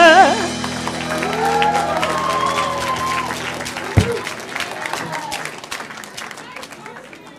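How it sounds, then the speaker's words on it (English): A Purim celebration audience breaks into another round of applause, with a crowd of hands clapping densely and steadily after a brief stretch of voices and tones at the start. "Back for another round of applause"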